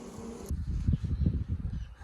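Honey bees buzz while nucs are installed into an empty beehive, a low, close humming that swells in after a brief moment of quieter background, with no talking.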